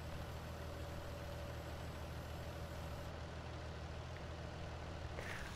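Tractor engine in a farming video game, steady idle drone with a low rumble holding level throughout, a brief click near the end, no voices.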